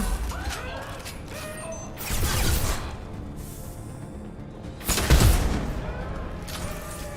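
Two heavy, booming sniper rifle shots from the video game Mass Effect 2 land a few seconds apart amid mechanical clatter and combat noise.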